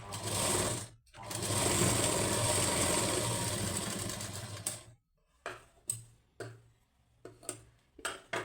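A sewing machine stitches a lining blouse in a long steady run of about four seconds, then stops and gives several short, separate bursts of stitching, close and fairly loud.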